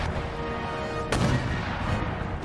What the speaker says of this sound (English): Ah, my mortars are firing that way.